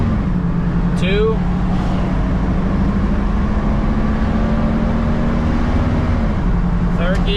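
A 1996 Chevrolet Suburban engine drones steadily at low pitch while the truck is driven and accelerates, with slight pitch rises as it goes through the gears. It stays loud and continuous with in-cabin road noise and no talking.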